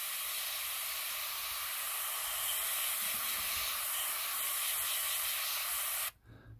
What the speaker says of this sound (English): It's just good practice for like airbrush control, so it's a good idea when you're doing things, you know, use everything you can to practice your airbrushing.